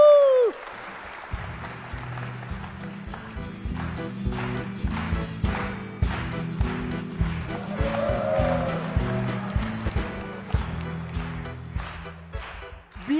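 Studio audience applause for a contestant on a game show, rhythmic clapping alongside music and cheering, a wavering whistle or vocal whoop rising briefly midway.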